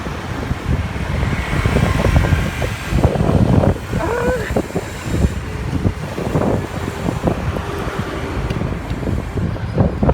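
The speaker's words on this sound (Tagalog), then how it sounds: "Sumasalubong yung hangin." Steady, heavy wind roar buffeting the microphone of a cyclist riding into a headwind, loud and gusty, with a voice speaking underneath.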